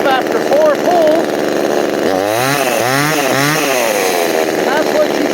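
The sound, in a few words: small gas chainsaw running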